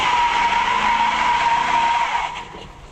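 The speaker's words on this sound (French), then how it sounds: "On va réchauffer les pneus un peu." Tires of a pickup truck spin on pavement to warm up, giving a sustained, loud, steady squeal that fades out near the end, with no voices over it.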